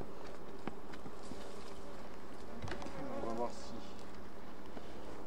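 A weak honeybee colony buzzes around an open hive during feeding with syrup and protein paste, a faint, wavering drone with passing bees drifting close, plus light handling knocks.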